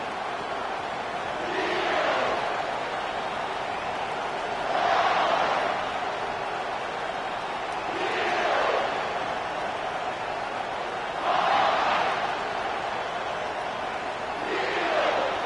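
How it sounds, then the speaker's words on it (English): Home crowd at a college football game, North Carolina hosting Penn State, roaring in a packed stadium, with several swelling waves of cheering and yelling rising and falling over a constant distant crowd murmur. "with this place rocking, the crowd forces a false start"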